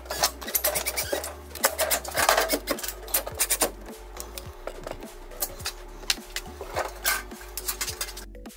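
Screws are worked loose from a home garage electrical panel cover, a rapid series of metallic clicks, ratchets and scrapes close up, irregular and bright, with brief pauses between bursts.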